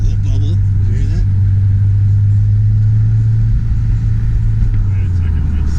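A Subaru WRX fitted with an Invidia aftermarket exhaust burbles at a steady idle, heard from outside the car as a strong low rumble with faint voices talking over it.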